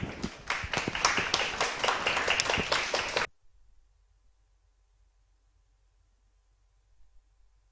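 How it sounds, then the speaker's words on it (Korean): An audience at an exam information session claps to welcome a speaker, a dense burst of applause for about three seconds before cutting off to near silence. "고강일 노무사님을 큰 박수로 모시겠습니다"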